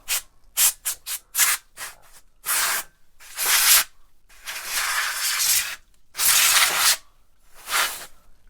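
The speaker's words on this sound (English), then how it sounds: "Little compressed air to" Compressed air sprays in short bursts and then longer blasts to clean an Atari 2600 Jr console and its cartridge port, a close, loud hissing with about a dozen separate spurts and brief gaps between them.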